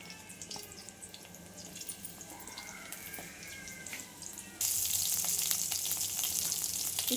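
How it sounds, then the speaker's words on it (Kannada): Onions dropped into hot oil for a spicy chutney start as a soft crackle, then burst into a much louder, steady sizzle partway through and keep hissing up close, with no voices. "ಎಣ್ಣೆ ಕಾದಿದೆ, ಈರುಳ್ಳಿ ಹಾಕ್ತಾಯಿದ್ದೀನಿ."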